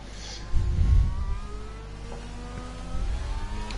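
Formula 1 car engine in the racing game F1 2020, a whining engine tone that rises and shifts through gears, with low rumbling bursts at the start and near the end and no speech.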